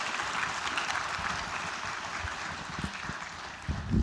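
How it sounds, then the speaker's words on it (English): A conference crowd applauds steadily for several seconds after a keynote, a dense wash of clapping with a few louder claps near the end. "Big round of applause"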